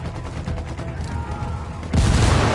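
Rapid gunfire rattles in a Ghost Recon firefight, followed by a loud, close frag grenade blast that swells into a heavy rumbling explosion near the end.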